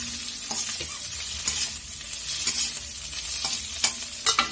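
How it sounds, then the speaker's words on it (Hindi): Paneer frying in a pan before Singapuri chow mein noodles go in: a steady oil sizzle and stirring, with sharp metallic clinks and scrapes of the utensil against the pan. "मैं चाउमीन डालने से पहले मैं पनीर डाल देती हूँ इसमें थोड़ा सा फ्राई करने के लिए"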